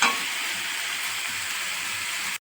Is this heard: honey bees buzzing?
no